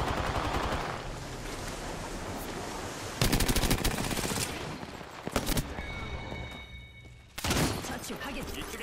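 Automatic gunfire in the shooter game Apex Legends, rapid loud bursts of shots cutting in and out over ambient game sound, with voice lines spoken between them.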